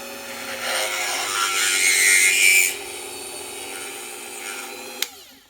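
A small power drill bores into a two-part lock key pin with a steady high-pitched whine that swells midway, then settles lower, ending with a sharp tick and a stop.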